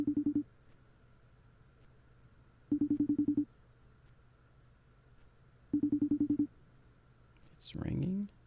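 A telephone rings in three evenly spaced bursts of rapid trilling tone with quiet gaps between, followed by a brief clatter as the call is picked up.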